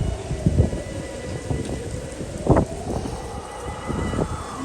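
Strong gusty wind of a dust storm sweeping through a village at dusk, a steady broadband roar with louder buffeting gusts near the start and middle, with no voices.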